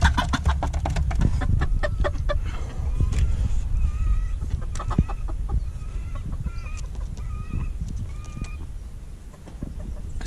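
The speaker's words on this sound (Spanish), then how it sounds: "Este gallito como me gusta." A young rooster clucks and calls on a farm among other gamecocks, with short repeated cackling bursts at mid distance over rustling background noise; no talking.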